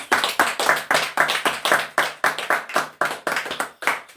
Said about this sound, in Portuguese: Dê uma linda salva de palmas no nome de Jesus Cristo